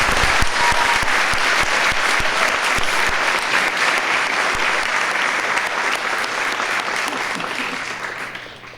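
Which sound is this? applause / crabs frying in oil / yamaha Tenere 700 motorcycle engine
applause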